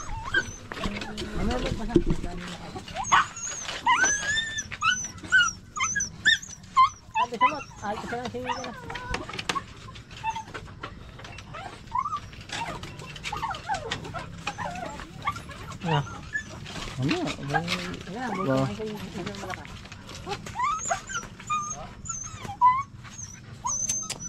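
Several dogs barking, yipping and whimpering at close range, irregular and overlapping throughout, with people talking over them.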